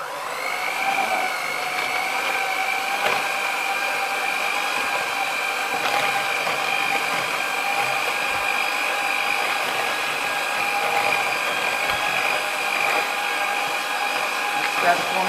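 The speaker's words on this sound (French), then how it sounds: "Je vais mélanger à petite vitesse." An electric mixer runs at low speed through frangipane batter, a steady whirring motor hum with a constant pitch that continues unbroken and fairly close.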